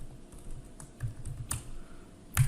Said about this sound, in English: So all we do is just type in what we need.